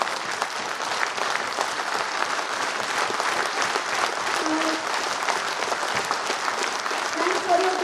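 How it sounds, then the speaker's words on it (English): Audience at a felicitation ceremony for a union chairman applauds, sustained dense clapping from a crowd filling the hall steadily for several seconds. "Thanks for your clapping."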